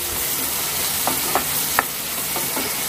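Onions being sautéed in a pan for mutton bone (nalli) chukka: a steady close sizzle of frying with a few sharp scraping stirs of a spatula, no voices.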